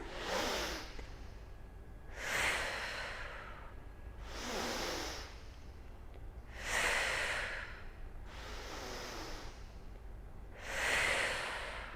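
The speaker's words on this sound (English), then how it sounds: "Inhale through the nose." Slow nasal inhales and exhales during a Pilates breathing exercise, six long airy breaths spaced about two seconds apart, close and clear with no talking.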